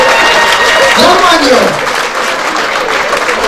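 Loud audience applause at a festive jubilee evening in Brussels, sustained clapping with a voice talking over it, easing off slightly toward the end.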